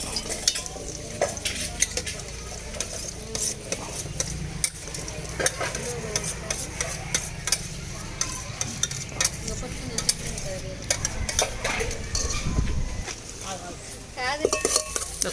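Onions, green chillies and garlic sizzle steadily in hot oil over a wood-fired stove for chicken curry, with a spoon stirring and clinking against the pot throughout, plus brief low thumps.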